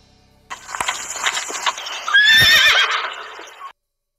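A horse in a fairy-tale sound effect lets out a loud, close whinny that rises over a rush of hoofbeats and movement, then cuts off abruptly.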